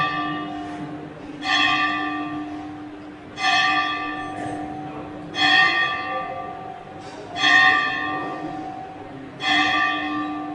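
A church bell in Mumbai, India tolls five times at steady intervals of about two seconds, each ring bright and sustained before fading, heard clearly above faint background noise.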